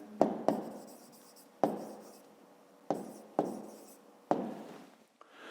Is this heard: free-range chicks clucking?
no